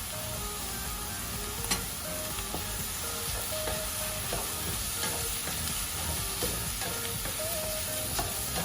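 Minced fish stir-frying in a pan with salt and seasonings, a steady sizzle with faint clinks of stirring running continuously and fairly close, with no voices.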